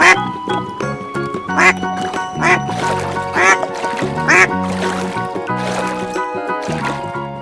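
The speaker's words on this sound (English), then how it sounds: "Duck, pato." A duck quacks repeatedly in short, evenly spaced bursts over light, bouncy background music.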